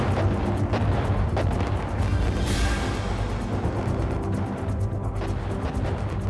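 Fireworks burst over the night sky at Beijing's one-year countdown celebration for the 2008 Olympics, a continuous loud barrage of booms and crackles with no pauses.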